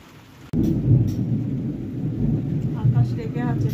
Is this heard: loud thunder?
yes